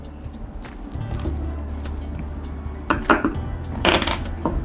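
Dry rice grains are poured into a mini toy cooker, producing a close, bright rattling patter in bursts with small metallic clinks between them, with no talking.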